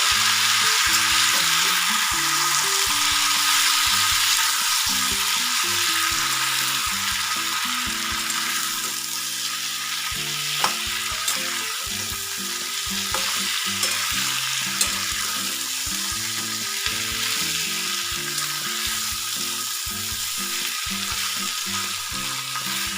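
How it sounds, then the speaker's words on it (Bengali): Potato and radish pieces with prawns sizzle steadily in a pan while being stirred, a close, continuous crackling frying sound with occasional scrapes and clinks running the whole length. "আলু আর মূলো মোটামুটি ভাজা ভাজা হয়ে যাচ্ছে। এবার ভেজে রাখা চিংড়ি মাছগুলো দিয়ে দিলাম।"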